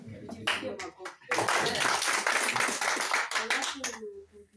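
A church congregation claps during a service, a dense, sustained burst of many hands close by, with voices talking over and around it.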